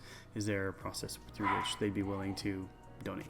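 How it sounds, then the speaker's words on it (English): Several dogs bark and yip in short repeated bursts, fairly close, overlapping and running under a man's speech throughout. "Please excuse the dogs."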